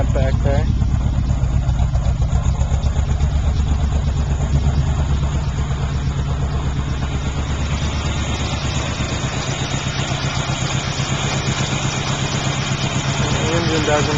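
A 1978 Pontiac Trans Am with aftermarket exhaust idles steadily with a deep, even burble close by, while someone talks over it throughout.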